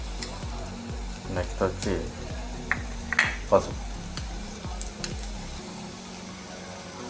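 Onions frying in oil with a pinch of turmeric, a steady sizzle broken by several sharp stirring scrapes in the pan, close up, with brief speech at times.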